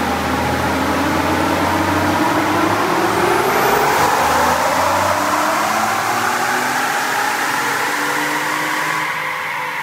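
A 2020 Ford F-150 FX4 engine roars loud and close on a dyno, rising steadily in pitch through a long sustained pull to high rpm, running choppy near the top.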